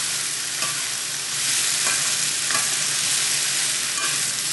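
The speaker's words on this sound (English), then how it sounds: "So I'm going to stir fry this just for a minute or so" Vegetables stir-fried in a pan give a steady, loud sizzle with a few soft stirring scrapes, close up and with no talking.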